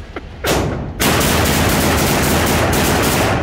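Gunfire from guns at an outdoor shooting range: a loud close shot, then a heavy sustained burst of rapid firing that fills the rest of the moment.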